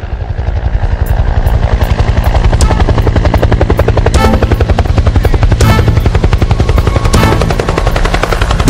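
A helicopter's rotor chops loudly and steadily throughout, a close, rapid thumping beat with a whining engine underneath.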